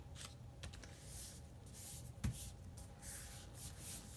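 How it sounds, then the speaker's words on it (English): A gessoed paper page rubbed by hand onto a gel printing plate makes a soft, faint, close rubbing and swishing with repeated hand strokes and one small bump partway through. "rub it on the gel plate"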